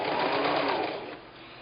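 A sewing machine stitches a quilt seam with a steady, close, buzzing run for about a second, then slows and fades to a soft hum as the stitching stops.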